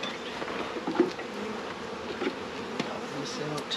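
Honey bees at an open beehive make a continuous close buzzing drone, with a few soft clicks and knocks from handling the hive.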